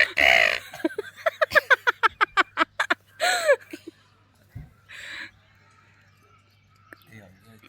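A person mimicking a crow with a quick rhythmic run of about ten rasping caws, followed by a few longer drawn-out calls, close and clear against a quiet background.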